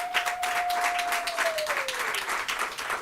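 Applause from an audience at a football association sponsorship launch swells as a broad, steady clatter of many hands throughout the short stretch, with a faint sustained tone running underneath.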